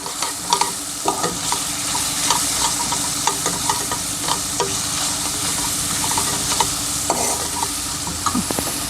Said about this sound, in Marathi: तर त्याची छान अशी फोडणी करायची आहे